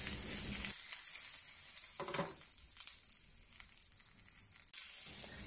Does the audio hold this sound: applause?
no